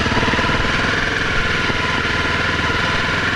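Honda CRF250 Rally motorcycle engine running steadily with throttle modulation while riding, a continuous close, loud mid-pitched drone with a rapid pulsing beat and no pauses.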